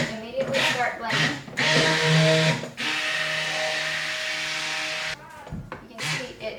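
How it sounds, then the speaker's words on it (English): A stick blender whirs steadily for a few seconds as it mixes lye solution into oils for homemade soap, a close, even motor whine with rougher handling noises before and after. "Immediately start blending."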